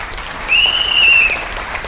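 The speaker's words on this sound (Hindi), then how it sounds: "ताली बजानी चाहिए सर्वेश सर की" Audience applause for a colleague named Sarvesh at a success-story gathering, a brief burst of clapping that swells and fades over under two seconds, with a thin high whistle-like tone running through it.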